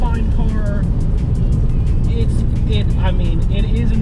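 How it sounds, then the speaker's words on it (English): Heavy road noise fills the cabin of a Gen V Dodge Viper at speed: a loud, steady low rumble and tire roar running the whole time, with a voice talking over it. "there is a ton of road noise in this car"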